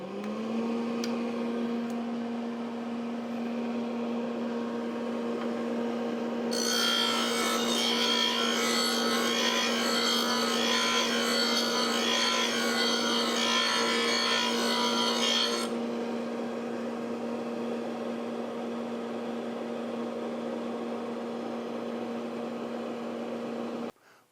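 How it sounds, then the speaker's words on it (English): A dust collector runs with a steady whirring hum while a lawn mower blade is ground on a MAG-8100 blade sharpener. A loud, harsh grinding burst joins it for several seconds in the middle, then the hum continues alone until it cuts off. "We'll first turn on the dust collector."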